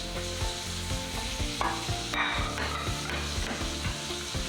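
Sliced mushrooms sizzle loudly in butter in a frying pan, with a steady crackling hiss broken by rhythmic scraping and stirring strokes and occasional light utensil knocks, heard close and without talk.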